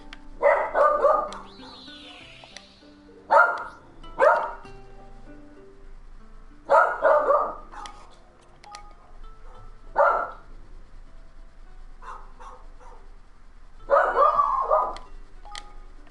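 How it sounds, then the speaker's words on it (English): A dog barks in Ni No Kuni 2, a string of short, loud barks coming in separate clusters with quiet gaps between them, heard alone and close. "I'm impressed by how much you're barking."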